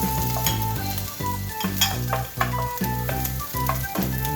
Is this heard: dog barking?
no